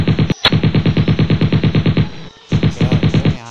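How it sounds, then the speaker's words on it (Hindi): Rapid automatic gunfire in PUBG Mobile on the Livik map rattles in two long, loud bursts, each shot in a fast, even rhythm, separated by a short pause. "यहाँ से गोली चली।"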